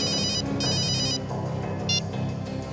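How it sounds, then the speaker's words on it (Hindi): An old-style telephone bell rings in repeated bursts, loud and close, over a dense background of music and ambient sound in a crime drama scene. "फ्रेडी का फोन था"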